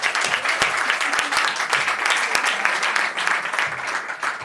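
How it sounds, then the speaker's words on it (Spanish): Deputies in Spain's Congreso de los Diputados applaud José Luis during a Pacto de Toledo debate, a full, continuous wash of clapping from a packed chamber that stays loud for the whole stretch. "Un aplauso para José Luis."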